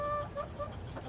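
Chickens in a homestead coop give a short burst of clucks, a few quick tonal calls over a low, faint background.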